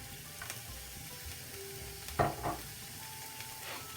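Onion, celery, courgette and red pepper stir-fry in a pan on the hob, giving a continuous close hiss. A clattering spatula knock comes partway through, with a faint tone beneath.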